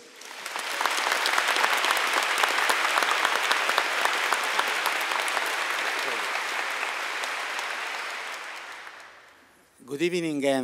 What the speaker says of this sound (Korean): 여러분 큰 박수로 시작해 보겠습니다.